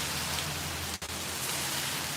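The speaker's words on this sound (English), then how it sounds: "pouring, it's raining out" Pouring rain makes a constant, close hiss, broken only by a brief dip in the middle, with no voices.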